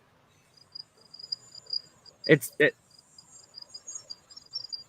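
Crickets chirp in a steady, high, continuous trill throughout, in the background under a person's voice speaking briefly.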